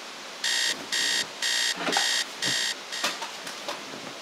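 An alarm clock rings close and loud in five regular beeping bursts, followed by softer scattered knocks and movement.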